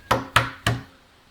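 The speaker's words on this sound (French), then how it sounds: "À peine celui-ci eut-il refermé la porte que le loup frappa." Three firm knocks on a wooden house door, evenly spaced and close, each with a short ringing decay, standing alone with no voices.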